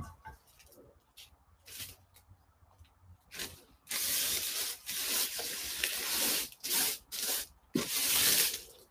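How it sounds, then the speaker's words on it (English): Bath bomb mixture being scraped up off a table, heard as close, rough scraping and rubbing strokes, quiet and sparse at first, then louder, dense bursts of gritty hiss in uneven pulses. "Let me try and scrape up what I can off the table."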